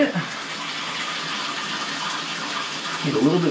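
Water running down a backed-up shower drain in an Airbnb bathroom during drain cleaning, a steady close hiss and gush of flow with a faint gurgle near the end.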